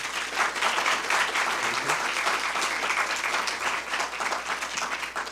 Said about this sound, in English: another big hand of applause for Fabio Sena.